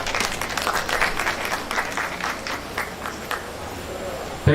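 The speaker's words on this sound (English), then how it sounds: "Let's round of applause again." Clapping from an audience at a university matriculation ceremony, a dense steady patter of many hands lasting a few seconds before an abrupt thump at the end.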